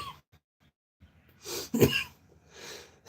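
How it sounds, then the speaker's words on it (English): A single close, sharp cough bursts out of a quiet indoor room, followed by a softer throat-clearing sound, with no talking. "I'm trying to train myself not to cough."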